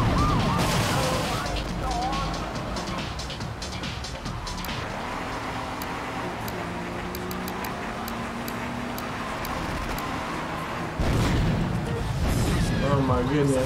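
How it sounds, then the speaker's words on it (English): Chaotic street mayhem in the video game GTA 3, with gunfire and wailing sirens mixed with car engines and explosions, dense and continuous, while a voice talks over it. "People are shooting each other."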